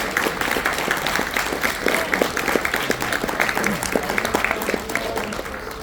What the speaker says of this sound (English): a round of applause for our three heroes and their family members